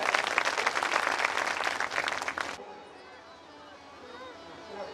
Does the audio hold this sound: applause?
yes